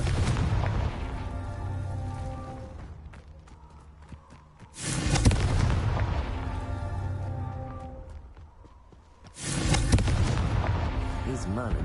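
In the Hogwarts Legacy video game, a Confringo fire spell erupts in two loud, booming blasts a few seconds apart. Each blast rumbles and fades slowly, over busy clattering game sounds.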